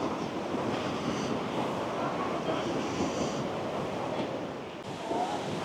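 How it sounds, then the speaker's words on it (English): Surf at Suluban Beach in Uluwatu, Bali, makes a continuous, close, full wash of breaking waves, mixed with wind buffeting the microphone throughout. "Beautiful beach location here."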